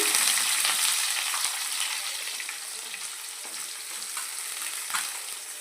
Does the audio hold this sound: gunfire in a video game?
no